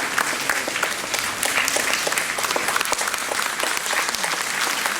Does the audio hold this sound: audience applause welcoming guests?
yes